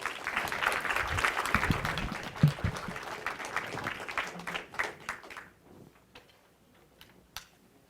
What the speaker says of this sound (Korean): 큰 박수로 원장님을 맞이해 주시기 바랍니다.